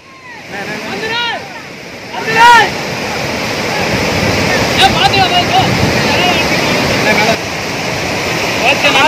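Floodwater from a breached lake embankment rushes into a village, a steady loud broadband roar of churning water with wind buffeting, while people talk over it.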